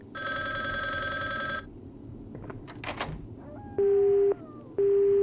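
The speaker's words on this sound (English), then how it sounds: "Now, why is this bloody phone ringing?" A telephone rings in the Resident Evil Survivor video game: a loud electronic bell trill at the start, then repeated steady electronic tones cut in and out after a pause.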